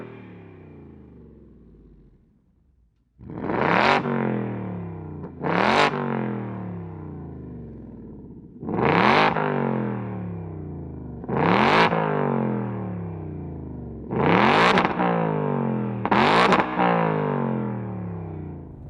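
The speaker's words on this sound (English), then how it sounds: "So it is a valved exhaust. It is pretty loud." A 2024 Ford Mustang Dark Horse's loud valved exhaust barks through six sharp revs, each a crackling burst that rises quickly and then fades, with short pauses between.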